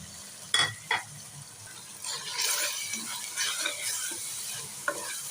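Spices and green chilies stir-frying in a pan for a stuffed capsicum dish, with a few sharp scraping knocks of the spoon near the start, then a steady sizzle with repeated stirring scrapes; no talking.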